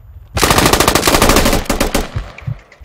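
Rapid machine-gun fire in the military shooter game Squad, a loud close burst of automatic shots lasting over a second, then a few scattered distant reports.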